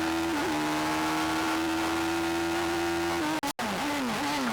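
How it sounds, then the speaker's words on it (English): Force Hayabusa hillclimb race car at Shelsley Walsh in 2008, its motorcycle-derived engine screaming at high steady revs, then cutting out abruptly for a gear change before rising again, loud and close. "we're sure you'd like another chance to ride with Robert Kenrick in the incredible Force Hayabusa."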